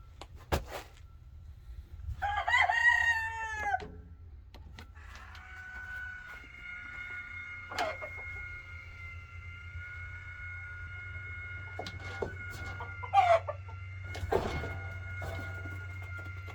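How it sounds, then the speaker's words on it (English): Backyard chickens at feeding time, with a rooster crowing near the start and scattered calls over a steady low background hum. "Let me feed the chickens"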